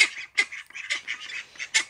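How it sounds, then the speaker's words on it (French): A pair of Saxony ducks, a white mallard-type breed, give several short nasal quacks and honks in an uneven rhythm, close by and clear against a quiet background. "J'ai racheté un couple de canards semois. C'est en fait l'équivalent du canard colvert blanc."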